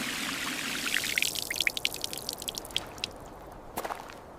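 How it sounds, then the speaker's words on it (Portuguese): Water poured over a wooden altar: a splashing pour that thins into a run of separate drips and small splashes, close and fairly loud, ending with a final few spattering drops. "E derramaram água sobre o altar."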